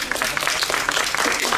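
A short burst of audience applause at a tech conference talk, many hands clapping steadily throughout with no break.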